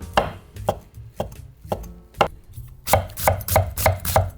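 Fish cake is chopped into thin strips with a knife on a cutting board. Sharp chops come slowly and unevenly at first, then speed up into a quicker, louder run of close, steady strokes.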